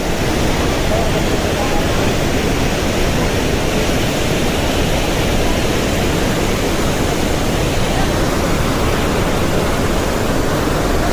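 The Sahastrakund waterfall roars loudly and without a break, a dense, unbroken rush of high water that fills the whole scene.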